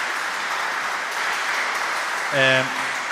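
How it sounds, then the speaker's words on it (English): Moderate applause from an audience at a talk on welcoming refugees runs as a soft, steady patter, and a short voiced sound rises over it near the end. "A huge applause for them, both."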